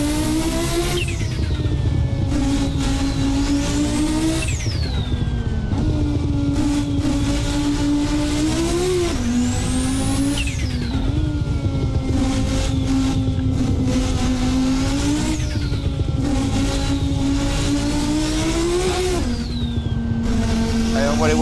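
A turbocharged Audi S1 silhouette race car in the Assetto Corsa video game, its engine climbing in repeated rising pitch sweeps as it accelerates through the gears, loud and close, with brief drops between each shift.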